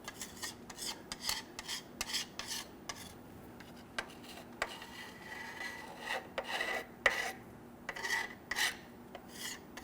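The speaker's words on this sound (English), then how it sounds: "You can see just by dragging this across it, it is cleaning up our old gasket material." A gasket scraper drags across an aluminum transmission oil pan from a 1999-2004 Jeep Grand Cherokee 4.7L V8, rasping off old gasket material in a run of short, close scraping strokes that come and go irregularly.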